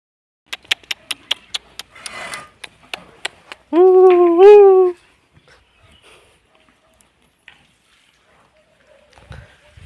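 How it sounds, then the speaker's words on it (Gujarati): A puppy in a farm field gives one drawn-out whimpering whine after a run of sharp clicks and small noises, with faint scattered sounds trailing afterward. "તારે જ રેઢો ગલુડી જો આવ્યો છે હમણાં"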